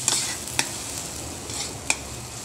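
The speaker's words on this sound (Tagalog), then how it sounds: "Ito na yung ating scrambled egg, malapit nang maluto." Soft sizzle of scrambled eggs mixed with fresh tomato frying in a pan, with a few sharp scraping stirs and clinks standing out over the quiet background crackle.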